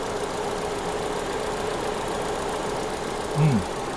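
A minivan engine idling with a faulty fuel injector, a steady mid-pitched running drone with slight knocking texture, close by and continuous, a short rising tone near the end.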